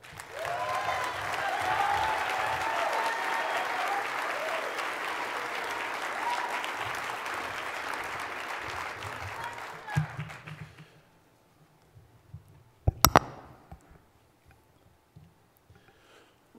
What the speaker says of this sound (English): Please give a big round of applause to Joe Torres.